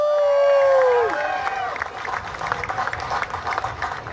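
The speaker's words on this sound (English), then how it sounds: "everybody give them a huge round of applause." An audience cheers and applauds for Team Illinois at the 2018 USA Games, beginning with a loud sustained whistle or horn tone, then a lively crowd roar of clapping and cheering with voices mixed in.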